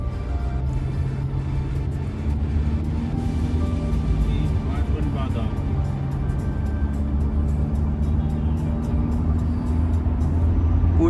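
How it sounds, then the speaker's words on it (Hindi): A 2021 Toyota Fortuner full-size SUV engine drones and rumbles steadily from inside the cabin as it picks up speed, with tire and road noise and people talking over it. "अब मैं यहाँ पे आपको एक बार दिखाता हूँ थोड़ी सी भगा के और गाड़ी कितनी जल्दी कैसे स्पीड पकड़ती है।"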